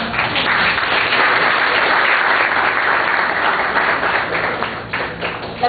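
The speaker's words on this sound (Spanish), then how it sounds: "aplausos." Sustained audience applause at a forum-debate on agrarian reform in El Salvador: dense, steady clapping from a crowd that stays loud throughout, then thins slightly near the end.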